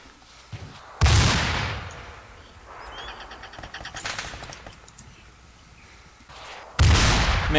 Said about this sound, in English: I can hear Manny shooting.